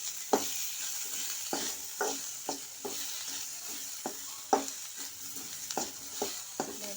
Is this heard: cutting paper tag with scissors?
no